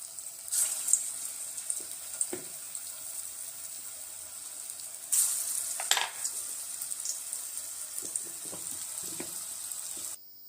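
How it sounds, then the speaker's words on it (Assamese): Raw banana chop pieces frying in hot oil, a steady broadband hiss and crackle with a louder sizzling burst as pieces drop in midway, then a quieter bubbling fry. "এতিয়া আমি ইয়াত তেলখিনি গৰম হ'ল এই চপৰ শ্বেপ দি পেলাই তেলত দি দিছোঁ কাঁচকলখিনি"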